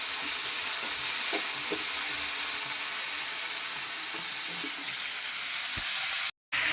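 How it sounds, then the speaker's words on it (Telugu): Onion and green chillies frying in hot oil in a pan, a steady loud sizzle with a few faint stirring clinks, no talking, and a brief cut near the end. "చూసారా ఉల్లిపాయ అయితే వేగుతుంది."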